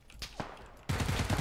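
Gunfire in the video game PUBG, a few scattered distant shots at first, then a sudden burst of rapid repeated fire that continues to the end.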